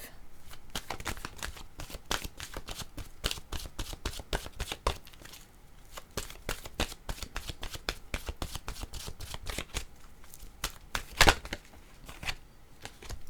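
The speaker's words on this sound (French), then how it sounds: "Je vais demander une carte de mon oracle de l'âme intuitive." Oracle cards being shuffled by hand before a draw, a long run of rapid, close, crisp riffling slaps with brief pauses between bursts.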